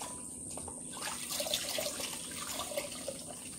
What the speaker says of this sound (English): So the next rinse, you just want to make sure the water's clear and all of the wool wash is gone out